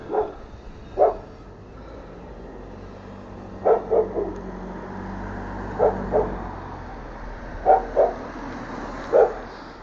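A dog barks in repeated short bursts, single and doubled, near a street on a city ride in Belgrade, with low traffic rumble underneath and no talking.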